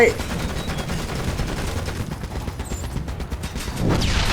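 Rapid bursts of automatic gunfire in the video game Ghost Recon Advanced Warfighter 2, loud and continuous with dense overlapping shots throughout, a heavier burst at the end and a voice talking over it.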